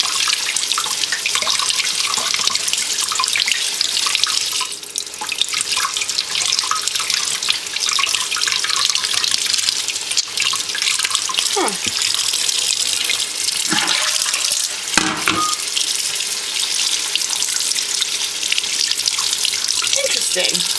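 Tap water runs steadily over dyed fabric as the color washes out of it, a continuous splashing rush into a sink with a few brief clunks and shifts as the fabric is handled.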